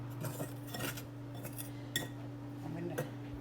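Ingredients for naan dough, including salt, being stirred in a bowl, with light clinks of a utensil against the bowl at irregular intervals over a steady low hum.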